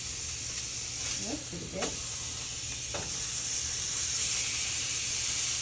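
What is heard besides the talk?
pork chops sizzling while searing in pan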